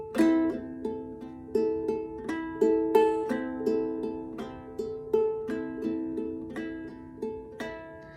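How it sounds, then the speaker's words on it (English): Ukulele played with a thumb pluck on the top string followed by index-finger up-and-down strums on the lower three strings, a steady repeating pattern of clear plucked notes and bright strums, close and alone. "You can pluck the top string with your thumb, and then with your index finger, go up and down on the final 3 strings."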